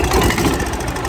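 A Club Car golf cart engine with a carburetor runs close by, a rough, knocking low drone held briefly as the throttle is opened slightly.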